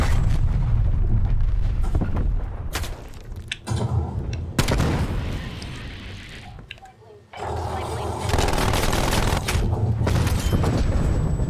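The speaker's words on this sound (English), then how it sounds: "Artillery targeting active. Artillery inbound." Artillery strike from Call of Duty Black Ops Cold War, loud repeated booming explosions landing in a rolling sequence, heavy and near, with brief gaps and game noise and voices between impacts.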